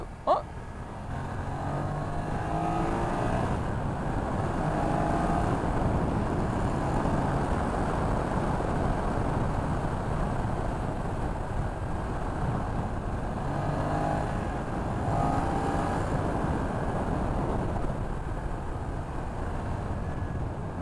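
A BMW F900XR motorcycle engine pulls hard under acceleration while riding, a steady loud drone with wind rush that holds for the whole stretch, the pitch rising and easing slightly.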